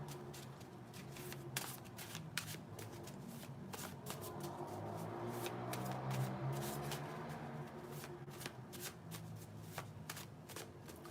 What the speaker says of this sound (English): Can I say when you stop shuffling?